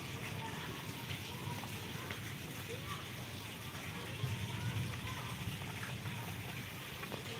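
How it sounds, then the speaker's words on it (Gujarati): Heavy monsoon downpour in Gujarat, a steady, dense wash of falling water that stays loud and constant, with a faint voice in the background. "અત્યારે હાલમાં વરસાદ જોરદાર વરસી જ રહ્યો છે"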